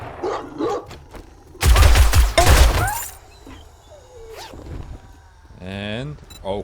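Rifle gunfire in the zombie survival game 7 Days to Die: a loud, dense burst of shots lasting about a second and a half, with quieter game sounds and creature noises before and after.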